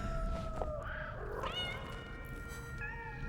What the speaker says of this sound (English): There's actual cats.